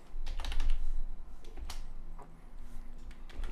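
Quick clusters of clicky keystrokes on a computer keyboard, close and moderately loud, with short pauses between bursts and no talking.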